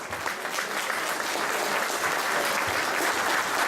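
Steady, dense applause from a crowd saluting a Belgian cyclist's third-place finish at a race, continuous and even for the whole stretch with no voices standing out.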